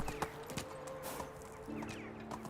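Horse hooves clip-clop steadily in the Medieval Dynasty video game, a regular walking rhythm of soft thuds over a faint ambient hum, fairly quiet and close, with no voices.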